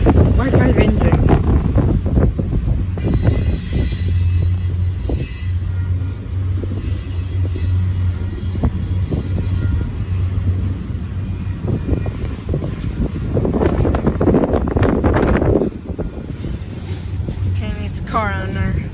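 Union Pacific double-stack freight train hauled by five engines passing close by, a steady loud rumble with low engine drone and wind buffeting the microphone, while people talk over it.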